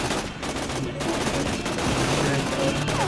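Gunfire from the video game Tales from the Borderlands rattles in rapid, sustained bursts, loud and continuous alongside game sound effects and machine noises.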